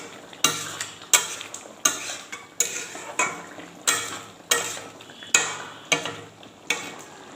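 Spoon stirring garam masala into a chicken and potato curry in a pan, a regular series of about eleven scraping strokes, each sharp onset fading quickly, close and fairly loud with no talk.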